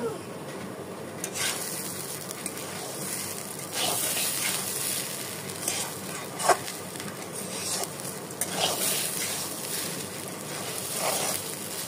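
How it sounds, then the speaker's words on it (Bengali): Fish head muri ghonto with sugar being stirred in a pan, a soft steady sizzle with scattered scraping strokes of the spoon throughout, close by and with no speech. "এবার দিয়ে এবার খুব ভালো মতো নাড়িয়ে নেব"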